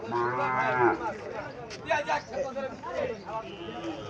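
A Sahiwal bull calf moos loudly at the start, followed by a busy mix of people talking nearby at a cattle market in Chandina, Cumilla.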